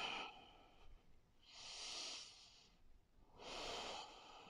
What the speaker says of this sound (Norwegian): Inn og ut gjennom nesen.